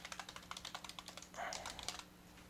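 Quick, light keystrokes on a computer keyboard as a name is entered, a steady run of soft close clicks followed by a short shuffle and a couple of final taps, quiet with no talk.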